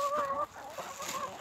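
Chickens cluck near a handler in a backyard with geese, a short burst of tonal clucks and calls at close range, fading after a moment into softer rustling.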